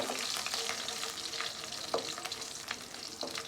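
Curry leaves crackle and sizzle in hot tempering oil for a drumstick-leaf and pigeon-pea lentil dish, a constant hiss broken by sharp pops and the scrape of stirring.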